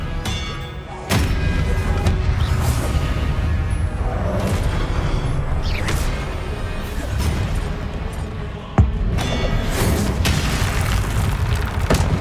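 Spell magic from the video game Hogwarts Legacy, with sharp impact booms at two points over a steady, dense background of game effects and ambience.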